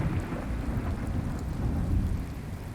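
Thunder in the PS5 video game Demon's Souls, a loud, steady, deep rumble with a rain-like hiss for nearly three seconds, no talk.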